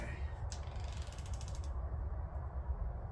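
A torque wrench clicks and ratchets while tightening bolts to 8 foot-pounds on a Honda B18 engine during a Civic rebuild, heard as a quiet run of close mechanical clicks over a low background hum, with no talking.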